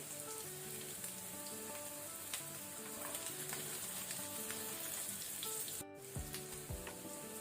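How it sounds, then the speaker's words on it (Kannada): Paneer pieces shallow frying in a pan with turmeric, chilli powder and salt, a steady close sizzle and crackle of hot oil throughout, with a brief clatter near the end. "ಸಾಕು, ಪನ್ನೀರ್ ಶಾಲೋ ಫ್ರೈ ಆದದ್ದು."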